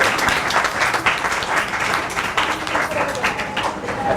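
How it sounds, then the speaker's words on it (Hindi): Sustained applause from a crowd, many hands clapping in a dense, even patter that stays loud throughout. "तो मैं चाहूँगा कि आप तो अपने लिए तालियां बजाएं"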